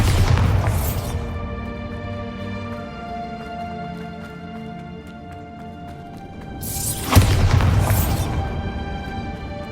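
A Bombarda spell detonates in Hogwarts Legacy, a loud broadband blast opening the moment and a second burst near the end, with a sustained game music bed and low rumble between.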